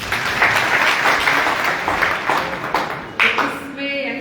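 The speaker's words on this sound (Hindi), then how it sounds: "सबसे पहले तो आप ये इतनी खूबसूरत जगह के लिए तालियां बजाइए।" An audience at a community center inauguration breaks into loud, dense clapping that rolls on for several seconds before thinning out as a voice begins speaking near the end.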